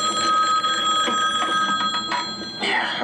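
A telephone bell ringing with a steady, sustained ring, loud and close, under faint background sound and no clear talk.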